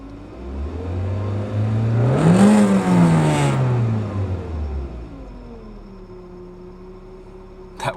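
Nissan KA24 engine with a 7,000 RPM redline, given a single blip at under quarter throttle: the revs climb to a peak, fall back to a steady idle, and a sharp click lands at the very end.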